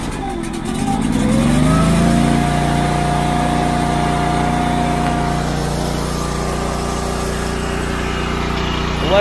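An Eastonmade wood splitter's small engine runs steadily under no load after a brief rising start, a continuous near drone holding an even pitch throughout.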